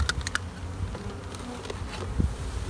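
A dense, steady buzz of many honeybees close by during a hive inspection, with a few soft taps and rustles mixed in as bees are scooped into a sampling cup for mite checking.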